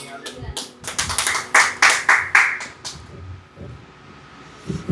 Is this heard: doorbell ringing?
no